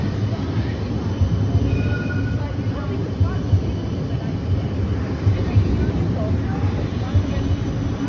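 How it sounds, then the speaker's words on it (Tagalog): A train rumbles past at moderate distance, a continuous rolling, rattling roar with faint squeals, steady throughout. "Ayan po yung train na naman."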